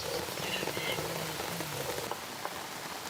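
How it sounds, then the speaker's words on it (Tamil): Rain falls outdoors in a village cooking setting, a soft steady patter across surfaces with faint scattered drips and a low background hum, no talk over it. "மழை வந்துருச்சுப்பா."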